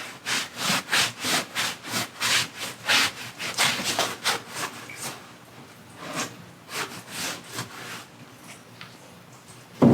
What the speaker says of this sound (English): We'll just rub it off. And all you're trying to do is get the excess stain off.